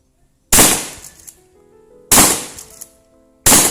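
A Remington 870 pump-action shotgun fired at a 12-metre range: three loud, close blasts spaced over a few seconds, each with a sharp crack and a decaying tail, and quieter mechanical clatter between shots.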